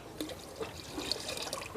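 Water, about 10 liters, pours and trickles faintly into an organic compost mix in a container, a soft continuous splashing with small gurgles, fairly quiet and without talk.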